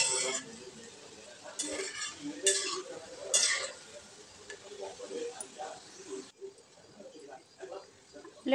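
Pakoras frying in hot oil with a soft bubbling sizzle, broken by several sharp metallic clinks of a utensil against the pan, mostly in the first few seconds, close by with no talk.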